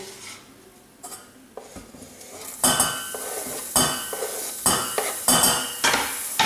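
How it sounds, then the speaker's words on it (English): Onions dropped into olive oil in a pan for sautéing, with light sizzling under repeated sharp metal clinks and scrapes of a utensil stirring against the pan, close and fairly loud. "put a little bit of olive oil in the pan, put the onions in"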